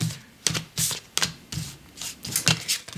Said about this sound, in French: Je vais peut-être sortir les cartes de...